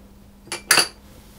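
Two quick metallic clinks of a utensil against a bowl as egg white, almond extract and salt are mixed, the second louder, in an otherwise quiet room.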